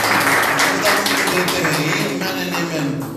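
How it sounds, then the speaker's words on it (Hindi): A Hindi-speaking church congregation claps steadily, the sharp handclaps blending into a full wash of applause under a voice talking over it. "जो से ताली बजाते देते हैं"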